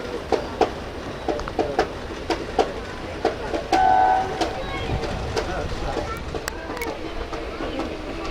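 The Haridwar–Sri Ganganagar Intercity Express rolls slowly around a curve, with rhythmic wheel clacks over rail joints repeating through a steady rumble and a brief tonal squeal partway through.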